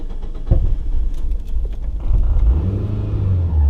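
A 400HP Mitsubishi Evo 5 engine cranking and catching: a sharp start near the half-second mark, then a rough, loud idle that settles into a deep, steady rumble.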